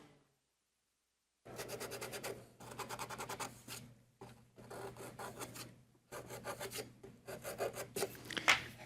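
A Shaper Origin handheld CNC router cuts a 1/4 inch wood mortise for a tambour door cabinet, a loud raspy spindle-and-bit whine in several bursts separated by short pauses, steady and close, with a low motor hum running underneath.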